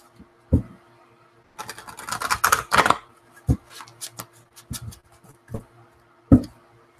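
Oracle cards are shuffled up close: a burst of riffling and flutter in the middle, with separate taps and slaps of cards before and after.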